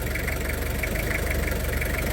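A well-kept Toyota Kijang Krista diesel engine runs at a steady, even drone, a close and continuous low rumble with no clear rise in revs and no talk over it.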